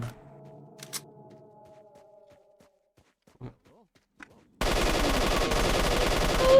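Automatic gunfire in the shooter S.T.A.L.K.E.R. Shadow of Chernobyl, a dense sustained burst erupting loudly after a quiet stretch of faint game sounds and isolated pops.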